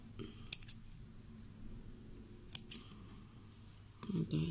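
Scissors snip loose yarn ends while trimming a dinosaur pom pom, a few sharp close crisp cuts spaced apart over a low room hum, with handling noise near the end.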